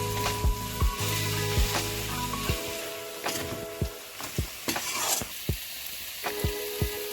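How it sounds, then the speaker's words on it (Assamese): Chicken and vegetables simmer with a soft sizzle over low gas in a cooking pot while a spoon scrapes through them in a run of repeated stirring strokes, close and with no talking. "এনেকৈ লৰাই থাকিব।"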